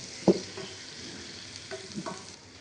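Rohu fish roe fries with spices in a pan. It sizzles softly and steadily while a utensil scrapes and stirs it in a few distinct strokes, the first one loudest.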